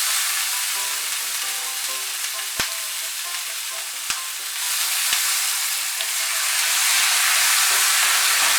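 Potato peel paste fries in a pan with a steady, bright sizzle and hiss after water goes in. A few sharp clicks of a utensil against the pan punctuate the sizzle, which swells toward the end.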